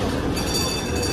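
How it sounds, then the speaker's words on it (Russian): A San Francisco streetcar rolls past on its rails near Pier 39, a loud, close, continuous rumble with rushing rail noise filling the moment. "Опять трамвайчик проезжает."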